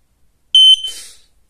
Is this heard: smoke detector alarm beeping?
yes